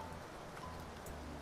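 Steady rain falls outdoors near trees, a dense, even hiss with no breaks and no talk, fairly soft in level.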